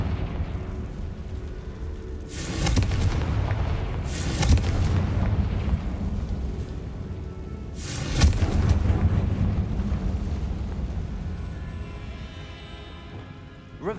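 In the Hogwarts Legacy video game, a Confringo blasting spell goes off inside a tomb, giving several deep rumbling explosive booms over a steady low roar, loud and close with no talking.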